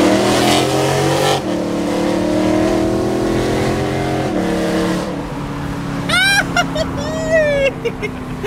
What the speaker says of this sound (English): His car's so loud.